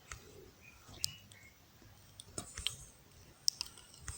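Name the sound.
computer mouse clicking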